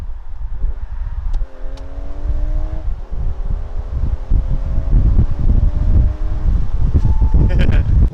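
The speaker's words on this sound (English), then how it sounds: "I'm gonna do some downshifts and hit it again. I love to hear those downshifts." A 2019 Audi A5 Cabriolet Premium Plus turbo engine downshifts and accelerates, its rising engine tones sounding under heavy wind rush from the open-top car, loud and continuous.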